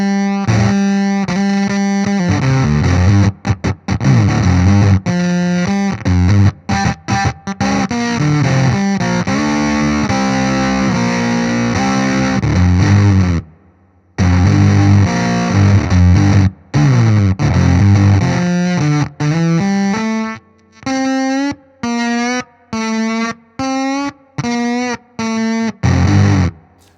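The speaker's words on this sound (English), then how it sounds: "I'm going to go drop D and sludgy, doomy, riffing madness with some bends in there" Heavily fuzzed electric guitar in drop D tuning through an EHX Ripped Speaker fuzz pedal, playing sludgy, doomy riffs with bends, loud and saturated, broken by short stops and ending in choppy staccato stabs.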